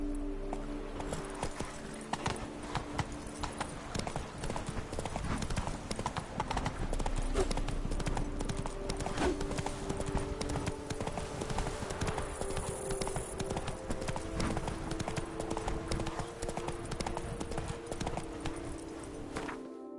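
A horse gallops across open ground in The Witcher 3, a steady rapid clip-clop of hooves running continuously under a dense layer of game ambience and music.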